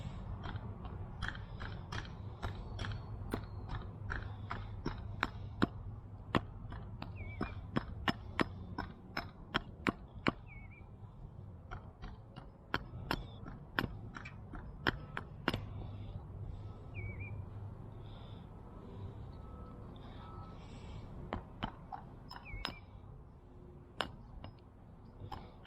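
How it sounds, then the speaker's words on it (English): Light axe work on a wooden spoon blank during spoon carving: a long run of small, sharp chopping taps, irregular and fairly close, with birds chirping faintly in the background. "So let's do a little bit of light axe work."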